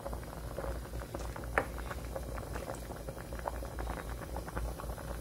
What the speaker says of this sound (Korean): 오징어국 끓이고 있습니다.